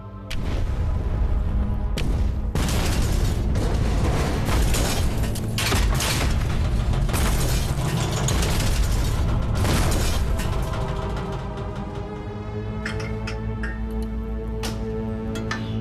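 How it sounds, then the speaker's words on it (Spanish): Depth charge explosions shaking a submarine in wartime, a series of heavy booms with rattling and creaking hull noise that fade into a low, resonant rumble. "Las explosiones de las cargas de profundidad sacuden el Barb."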